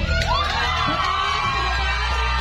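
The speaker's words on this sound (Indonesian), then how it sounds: "Kita berikan tepuk tangan kepada rukun Vincentius." Crowd at a parish anniversary celebration cheering and shouting during a prize presentation, loud excited voices including children rising together over a continuous background of clapping.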